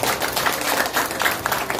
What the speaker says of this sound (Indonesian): Tepuk tangan untuk Pak PJ.